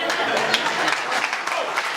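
A crowd at a National Action Network jobs rally breaks into clapping and cheering, a dense wash of hands and voices that stays steady through the short burst.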